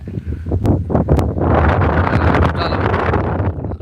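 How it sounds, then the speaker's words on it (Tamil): Strong wind gusting near the Tenkasi hills buffets the microphone with a loud, continuous broadband roar that swells and surges throughout, with no clear pauses. "காற்று அடிக்குது"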